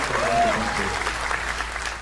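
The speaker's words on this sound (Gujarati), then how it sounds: "અનડિસ્પ્યુટેડ amazing choreographer from Gujarat prince Gupta માટે તાળીઓ થઈ જાય" An audience on a dance show applauds a choreographer from Gujarat, a dense, steady clapping that fades slightly toward the end, with voices faintly mixed in.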